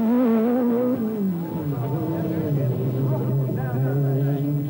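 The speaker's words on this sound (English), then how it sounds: "world champion Timo Salonen blasts away to start the first stage" A four-wheel drive Lancia rally car, turbocharged and supercharged, blasts away from the start of a forest stage, its engine note rising and then dropping through gears as it pulls away under a commentator's voice.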